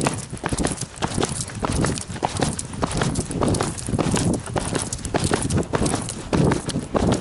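Rapid, busy hoof clip-clops, a horse moving at a brisk pace close by, with steady scuffing and thudding throughout.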